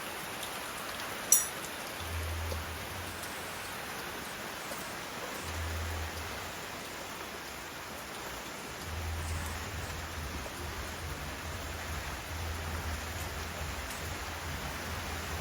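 Steady rain falls outdoors near a small roadside bicycle repair shop in Kilinochchi, Sri Lanka, a continuous even hiss with one brief sharp tap early on and no voices.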